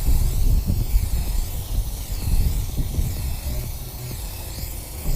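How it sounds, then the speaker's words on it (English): A steady hissing spray from an aerosol can of Rust-Oleum FlexiDip coating a car emblem runs continuously at close range, with a low rumbling texture underneath and slight variations in intensity. "So go ahead and spray it across."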